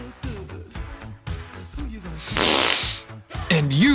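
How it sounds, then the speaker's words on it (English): A comic farting sound effect for cartoon monsters in a children's English lesson follows a run of voice-like vocal noises: a loud, noisy burst, then a squeaky rising-and-falling toot near the end. "Monsters also break wind."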